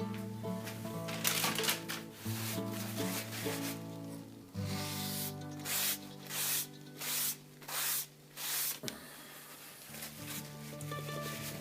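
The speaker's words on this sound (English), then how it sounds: "Let's get a little bit of oil on there. I'm just going to use a bit of WD-40," WD-40 sprayed onto a RUIXIN Pro knife sharpener in a series of short, close hissing bursts, about five in a row, with steady handling noise between them.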